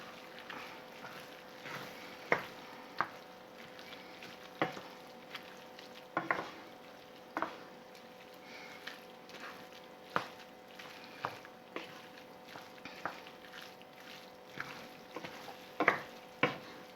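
Fried rice being stirred in a pan after a soy sauce (shoyu) mixture is poured over it, with scattered scraping clicks of a utensil over a soft, steady sizzle, fairly quiet and without talk.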